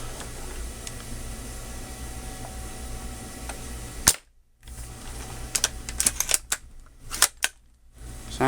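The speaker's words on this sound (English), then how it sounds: "gonna fire off a mag into the couch" A JG Bar-10 airsoft rifle fires a magazine of shots into a couch, sharp snapping clicks in quick bursts over room noise, with a short silent gap between volleys.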